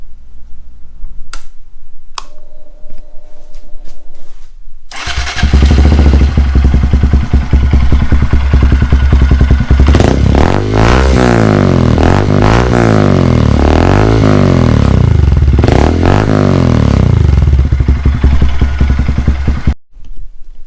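A 2022 Honda Grom fitted with a Yoshimura RS-9T full exhaust starts after a few faint clicks, then idles loudly and steadily with a throbbing, pulsing rhythm before cutting off abruptly near the end.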